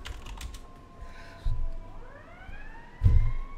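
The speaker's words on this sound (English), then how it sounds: "More fucking sirens." Emergency sirens passing outside, heard as faint rising and falling wails in the background of a quiet room, with soft keyboard typing and a couple of dull thumps nearby.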